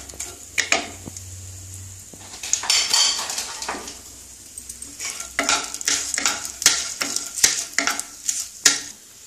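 Dry chillies and spices frying in hot oil in a pan while being stirred, with repeated metal scraping and clinking of a spoon against the pan over a steady sizzle, close and fairly loud, no talking.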